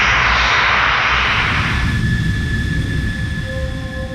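A fighter aircraft flies past loud and close, its roaring jet engine swelling and then fading into a lower, steady drone with a thin whine. No one speaks.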